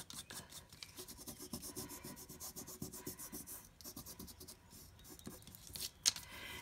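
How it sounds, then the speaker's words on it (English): A fingertip rubs leftover adhesive off vintage Cricut material, making a faint, steady scratchy rasping that continues throughout with no talk. "you can just continue to rub with your finger and get this adhesive off"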